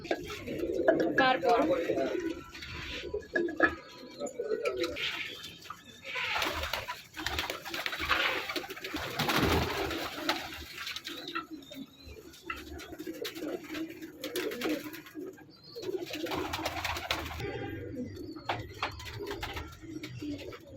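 Racing pigeons coo repeatedly in soft, rolling bursts across the whole stretch, fairly close, with people talking over and between the calls.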